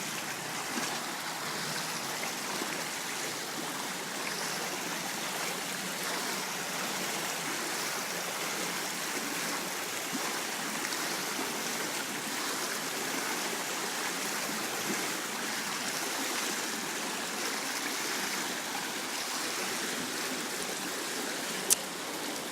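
Breaststroke swimmer splashing in a pool, a steady broadband wash of water churn and spray running continuously at a fairly even level, with no talk over it.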